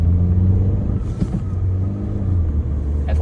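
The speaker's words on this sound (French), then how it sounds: "Écoutez bien le bruit du moteur, c'est parti." A Suzuki Baleno Hybrid car engine accelerating along a straight road, a loud continuous rumbling drone from inside the cabin with no talking.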